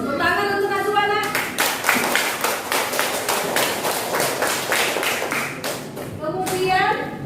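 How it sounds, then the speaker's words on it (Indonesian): Children in a classroom clap for a classmate named Najwa, a burst of many quick, sharp claps lasting several seconds, with voices speaking over the noise before and after. "Tepuk tangan untuk Najwa,"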